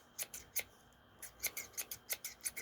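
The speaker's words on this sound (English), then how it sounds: "Here's some scissor sounds." Scissors snip open and shut about a dozen times in quick, uneven bursts, each a crisp metallic scrape, close and fairly quiet with no voices.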